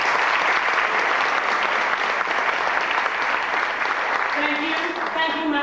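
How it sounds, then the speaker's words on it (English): A room of attendees at an evening gathering with a lawyers' association president gives a round of applause, steady clapping that fades at the end as a voice starts speaking. "Please give her a quick round of applause."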